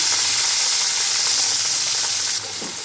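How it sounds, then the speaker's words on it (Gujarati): Ginger-chili paste and a pinch of asafoetida hit hot oil for paneer bhurji, giving a loud, steady close-up sizzle with hissing spatter that drops slightly near the end. "હવે આ તેલમાં આપણે ચપટી ઘીણ નાખશું પછી આદુ મરચાંની પેસ્ટ એડ કરશું"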